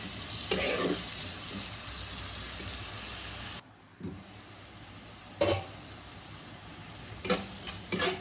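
Spices sautéing in a pan with a little water for a Bengali Mughlai paratha filling give a steady sizzle, with a brief quiet gap and a few louder stirring scrapes.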